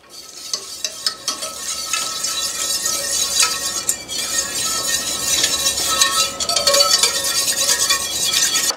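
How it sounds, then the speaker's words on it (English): Mustard being whisked into a chicken pan sauce, a steady scraping stir of whisk against the pan running throughout over a soft sizzle, with occasional light metallic clinks. "I'm just going to whisk the mustard"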